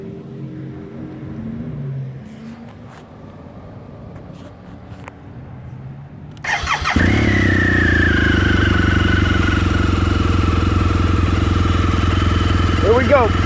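A 2013 BMW R1200GS motorcycle with 5,122 miles fires up partway through after quiet talk, then its engine settles into a loud, steady, close idle that runs to the end.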